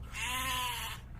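A single drawn-out sheep bleat, close and loud, wavering for about a second over a low background rumble, with no speech.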